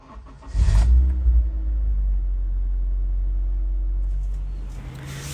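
Starter cranking and then catching on a Honda Brio running on an old battery with low cranking power: a loud, close low rumble that swells as the engine fires and settles into a steady idle for several seconds.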